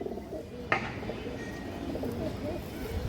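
A female pigeon coos softly and at a distance amid quiet background noise, with a sharp click partway through and a voice talking faintly.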